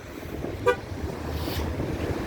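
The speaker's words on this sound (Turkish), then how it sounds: "kilitlediğinizde çift kornalı uyarı kapınız açıktır gitmeyin özelliği olarak aracımızda aktif ettik" A single short car horn toot from a 2015 Ford Focus diesel lock warning, brief and fairly near, over a steady low background hum of outdoor ambience.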